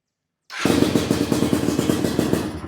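A cold MXF 250 TSX two-stroke motorcycle engine kicks into life after a brief silence, then runs with a rapid, loud, buzzing idle whose pulsing exhaust beats repeat steadily close by.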